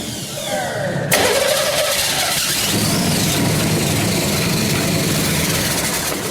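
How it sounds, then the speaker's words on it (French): Custom-built car engine cranking and catching, then revving and settling into a loud, rough, close running roar that continues steadily, with no talk over it. "Le moteur tourne."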